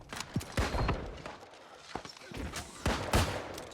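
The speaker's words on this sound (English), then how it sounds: "You can see how effective that siege weapon, that Gatling gun is" A Gatling gun siege weapon in New World war mode PvP fires in rapid bursts of sharp shots with uneven gaps, mixed with other battle noise.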